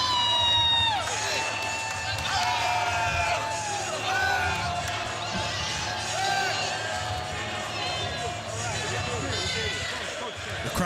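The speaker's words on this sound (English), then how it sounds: "The crowd is loving it" A crowd at a live fight event cheers and roars steadily throughout, a broad wash of voices and whistles, with a commentator talking over it.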